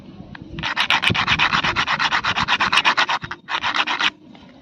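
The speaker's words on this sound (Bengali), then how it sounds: "দানাটা ঘষতে একটুখানি সাদা অংশ এসছে আর একটু আমরা ঘষে নেব" A lotus seed is rubbed back and forth against a rough surface to wear down its hard coat, making a fast, even series of close, gritty scraping strokes that pause briefly near the end before a final burst.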